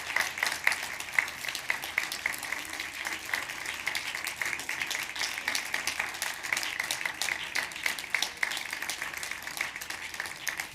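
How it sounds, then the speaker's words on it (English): An audience at a scientific event recording applauds project operators, a sustained, even clapping from many hands that continues steadily for around ten seconds at a moderate distance. "Please give them an applause."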